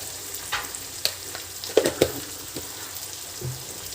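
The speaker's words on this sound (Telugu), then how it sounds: "ఇప్పుడు ఇది మగ్గేట వరకు ఫ్రై చేస్తూనే ఉండాలి ఆయిల్లో మొత్తం మగ్గిపోవాలి టమాటా" Tomatoes frying in oil in a pan, a faint soft sizzle broken by a few sharper stirring clacks, close and quiet, with no voices.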